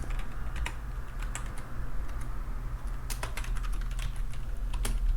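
Someone types a Linux install command on a computer keyboard, producing a steady run of close, crisp key clicks with occasional heavier strokes over a low constant hum; no talking.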